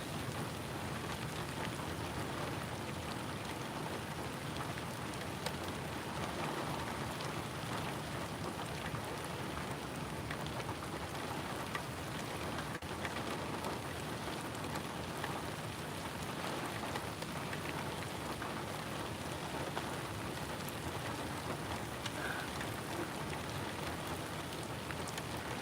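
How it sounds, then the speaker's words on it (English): Heavy rain pours at the SpaceX Starbase launch site in Boca Chica, Texas, a dense, even hiss of drops beating on surfaces that runs unbroken throughout. "Yeah, the rain is pretty heavy."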